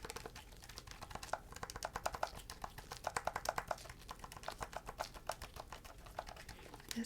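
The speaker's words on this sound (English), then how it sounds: "And I'm typing in the grand finale code." Rapid, light tapping on a computer keyboard, the keystrokes coming in uneven bursts at close range.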